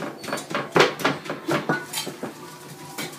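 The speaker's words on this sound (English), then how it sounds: "pulverize to break the cell walls, stir it up if you want" Salted shredded cabbage pounded with a wooden pulverizer and stirred in a container to make sauerkraut, producing a rapid series of close, hollow thumps and knocks, about a dozen in quick rhythm, with no speech.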